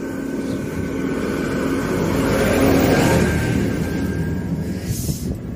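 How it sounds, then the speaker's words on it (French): A tractor passes along a road in the Normandy countryside, its engine drone swelling as it draws near and then fading as it moves away, with a faint tone held steady underneath. "Attention, il y a un tracteur qui passe."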